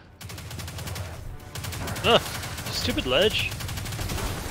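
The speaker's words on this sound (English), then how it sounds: "Are you being shot? I am." Rapid automatic gunfire in the video game Destiny, with repeated shots fired against an undying servitor enemy. The firing continues steadily across the clip, with game sound effects layered over it and a player speaking briefly.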